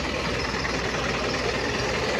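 A motorcycle engine rumbles steadily nearby, a continuous dense drone with no clear changes in pace over the short stretch, no voices audible.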